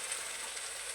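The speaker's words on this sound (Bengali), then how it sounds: "এই যে মাংস এখন সবাই কষাচ্ছি" Meat being sautéed in a pan gives a steady, even sizzle that holds at constant loudness throughout the short moment, with no talking.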